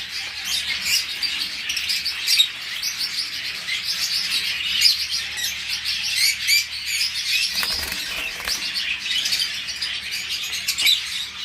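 Pet budgerigars, forpus parrotlets and lovebirds chirp and twitter continuously in a busy, dense chorus of overlapping high calls, fairly close, with occasional wing flutters and no talking.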